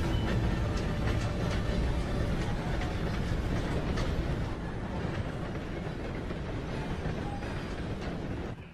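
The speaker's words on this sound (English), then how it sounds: "Gotta beat that train, Morgan." A train in the video game Red Dead Redemption 2 rumbles past as a steady, dense roar with rail clatter, loud and continuous throughout without any talk.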